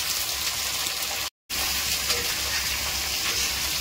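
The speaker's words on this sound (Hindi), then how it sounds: "अब जो है प्याज भी ऐड कर देते हैं" Onions fry in a pan for a village-style chicken curry, giving a continuous, even sizzle heard close up with one brief dropout.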